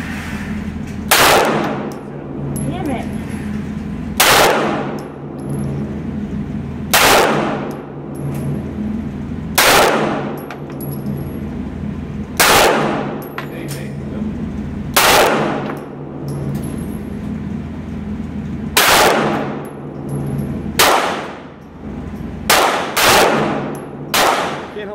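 Gunfire at an outdoor target range: loud, sharp single shots repeat every few seconds, near and distinct, with a low background rumble between them.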